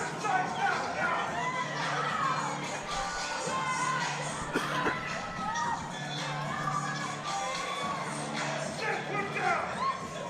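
Wrestling show crowd in Sedalia, Missouri, with many children among the fans, roars and shouts steadily throughout, a loud continuous wash of cheering with scattered high voices rising above it.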